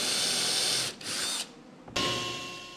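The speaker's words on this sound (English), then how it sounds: "I used a drill with a Forstner bit to cut a 3/4 inch hole" A drill fitted with a Forstner bit boring a 3/4 inch hole in wood, a whining motor run in several bursts with brief pauses, close and clear.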